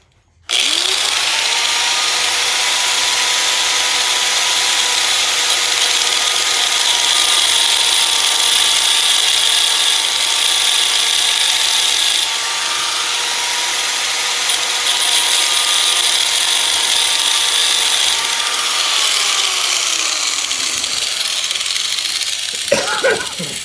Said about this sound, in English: Always make sure that your grinder is completely stopped before you set it down.